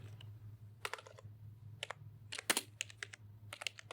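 Typing on a computer keyboard comes in quick, close clusters of light clicks with short pauses between bursts, over a low steady hum.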